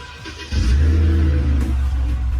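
Flood-damaged BMW engine kicks into life and revs hard, a loud steady low rumble swelling in after a quiet half second and holding strong to the end with no talk.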